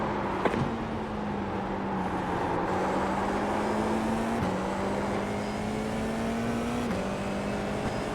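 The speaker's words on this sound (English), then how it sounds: "Car's still getting faster." An open wheel race car laps the Tsukuba circuit, its engine note climbing steadily through the gears with sharp shift breaks, loud and constant from an onboard-style perspective.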